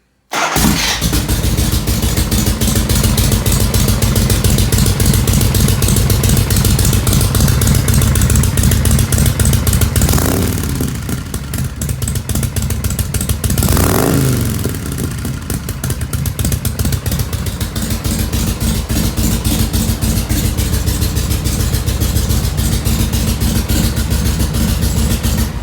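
A 1985 Harley-Davidson FXR with an Evo engine and Fire Brand exhaust starts and runs steadily for about twenty-five seconds, a loud, close, throbbing idle with two brief revs near the middle and no talk.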